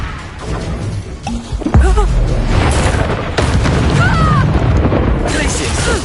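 Spell explosion effect from a wizard duel, a heavy low boom erupting near the middle and rumbling on amid other loud magical blasts and crashes, with voices shouting over the noise.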